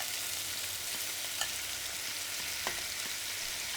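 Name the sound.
daikon radish stir-frying in a frying pan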